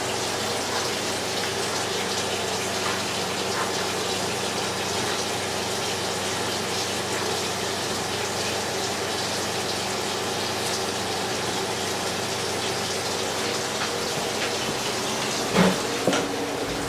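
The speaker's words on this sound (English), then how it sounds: "I like to turn my water on first." Kitchen tap running at a steady, even gush of water through the whole stretch, moderately close, with a brief clatter near the end.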